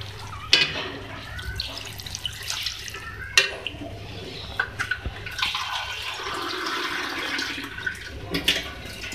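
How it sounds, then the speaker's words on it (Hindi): Water pours into a cooking pan of sautéed potato and green eggplant on a home stove, a running splash with brief sharp clatters and drips, close and moderately loud. "अब मैं इसमें जो है ऐड करूँगी वाटर"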